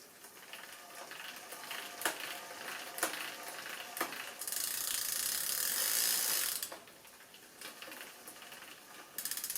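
Bicycle chain being fitted onto the rear sprockets of a Lapierre Pro Alu SL mountain bike, the freewheel giving a few sharp clicks followed by a steady ratcheting whir, close and fairly faint.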